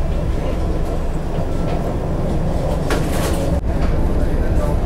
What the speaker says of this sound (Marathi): आज ट्रेनने प्रवास करतोय.